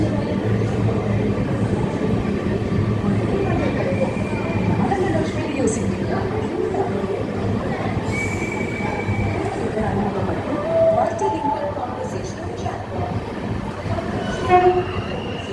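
Train arriving at Kumbakonam railway station on the Trichy to New Jalpaiguri Amrit Bharat Express, steady rumble of rolling carriages with a few short horn notes, people talking nearby throughout.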